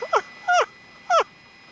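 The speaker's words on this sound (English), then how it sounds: "Dog's barking." Dog in a Pacoima neighborhood during a loose bear sighting, giving three sharp, fairly close barks spread over under two seconds, each a short yelping burst against quiet outdoor background.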